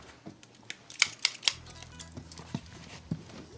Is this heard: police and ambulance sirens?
no